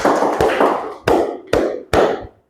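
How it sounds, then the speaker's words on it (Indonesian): Hands clap sharply in a steady counted rhythm, five loud, close claps spaced about half a second apart, each ringing briefly before the next. "ini Bapak punya tepuk ya. Nih. Tepuk 1, tepuk 2, tepuk 3, tepuk 4"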